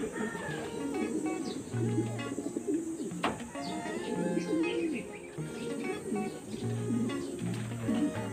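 Pigeons coo repeatedly in low, rounded phrases, mixed with chirps and other bird calls in a busy outdoor setting, fairly close and steady throughout.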